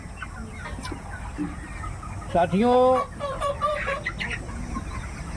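Chickens cluck and call on a small poultry farm, one loud close squawking burst standing out amid scattered softer clucks, with someone briefly speaking over them.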